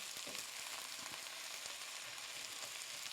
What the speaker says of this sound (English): Just keep stirring this around.